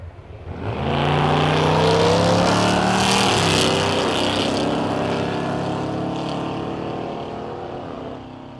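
A Corvette launches at the Thunder Valley drag strip in Noble, Oklahoma, its engine roaring loudly and climbing steeply in pitch through the gears, then holding a sustained heavy drone that slowly eases off.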